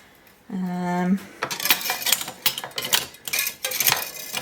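Metal kitchen utensils, including potato mashers, clink and rattle close by as they are put away in a farmhouse kitchen. A brief voiced hum comes first, then a busy run of jangling metal knocks.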